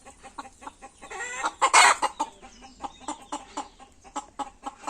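Village chickens, with a rooster among them, call out close by: clucks and squawks that rise to a loud crow-like outburst, followed by a string of short, irregular clucks.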